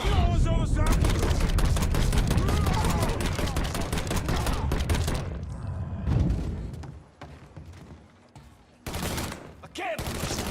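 Gunfire in the video game Mafia 3: dense, loud bursts of automatic fire with rapid shots, then a brief lull of scattered sounds before firing resumes, with shouted voices mixed in.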